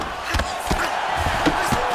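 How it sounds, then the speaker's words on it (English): A video game arena crowd in UFC 5 roars and cheers as fighters return to their feet, a loud, swelling wash of voices broken by a few sharp thuds. "big pop from the crowd as they get back to their feet after a pretty scintillating grappling battle there on the ground"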